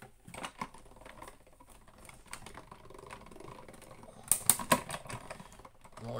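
Scrap paper sandwiched in cutting plates and cranked forward and back through a die-cutting machine, giving a steady close mechanical clicking and rattling that grows louder in a burst near the end, with no talking.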